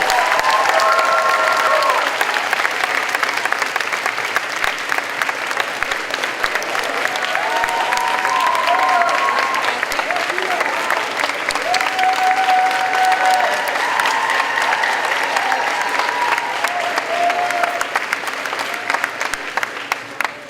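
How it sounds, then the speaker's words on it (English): A large convocation audience at Oxford College gives the new dean a long, sustained round of applause, dense and even throughout, with faint cheers and voices rising here and there. "I don't think you've given her a big round of applause yet"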